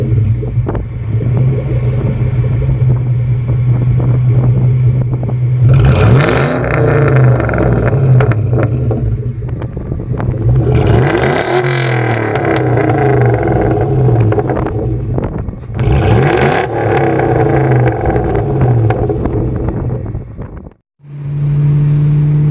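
A newly bought car's engine idles with a steady low hum and is revved three times in swelling, roaring bursts, loud and close, before settling back to idle.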